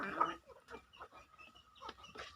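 Hen clucking in a backyard in Chavara, Kollam, a louder cluck at the start followed by scattered soft clucks and murmurs, close but quiet, with faint background sounds and no clear speech.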